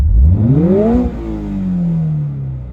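The 2.4-liter boxer engine of a Toyota GR86 revs up sharply from idle, rising in pitch to a loud, close peak, then settles into a long, slowly falling tone as the revs drop away.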